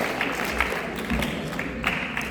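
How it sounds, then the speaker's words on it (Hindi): An audience at a Hindi poetry gathering claps for the poets, a brief steady patter of many hands at moderate loudness with no voices over it. "मैं चाहूंगा एक बार आप इन तमाम बड़े कवियों के लिए जोरदार बड़ी तालियां बजा दो,"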